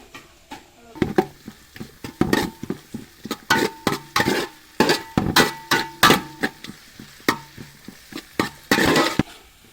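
A spoon scrapes and knocks against a pan while garlic and tomato are stirred during an outdoor cooking session by a pond. The clatter comes in quick, irregular bursts over a quiet background, with no speech.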